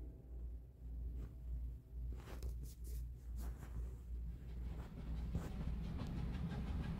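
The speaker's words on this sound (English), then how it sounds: "I hear a train." A train from the video game The Room 3 runs with a low, continuous rumble and faint rhythmic clickety-clack of wheels on rails, heard as if from inside a carriage.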